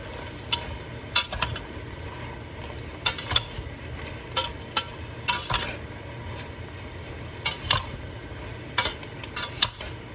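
A spoon stirs and scrapes through ingredients in a cooking pot, giving irregular clinks and knocks over a steady low rumble of cooking, with no talking.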